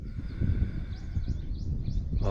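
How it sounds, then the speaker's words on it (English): A bird gives a short series of thin rising chirps at moderate distance over a low rumbling background. "there's this bird here that's making that call there"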